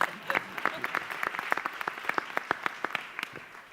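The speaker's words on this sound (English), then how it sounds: "A big applause for our throw mic." A modest conference audience at a service design round table claps for a throwable microphone, a light spattering of distinct hand claps in an uneven rhythm, fairly quiet and close.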